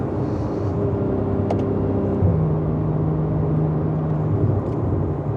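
A Porsche 981 Cayman GTS engine in Sport Plus mode drones loud and steady from inside the cabin, its deep note dropping in pitch midway as revs settle, with no talking over it.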